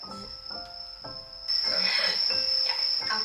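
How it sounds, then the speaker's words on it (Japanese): Bell crickets chirp at night outside a dining spot on Sado Island, a steady high ringing tone with repeated pulses, joined by clinking and background chatter partway through. "鈴虫の音が聞こえる。"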